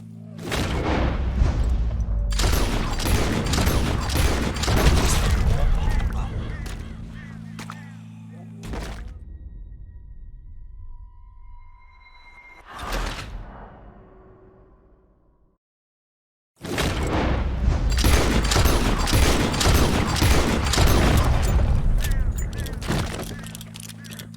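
Loud, sustained bursts of gunfire and booms in the video game Red Dead Redemption 2 come in two long volleys, separated by a quieter stretch with a short voice.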